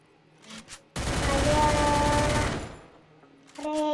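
Gunfire in the Free Fire mobile game, a sustained loud automatic burst lasting about one and a half seconds, with brief game effects before and after.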